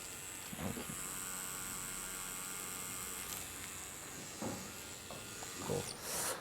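A tattoo machine shading flesh tones with a soft touch, a faint steady electric buzz and hum broken by a few soft knocks and handling sounds.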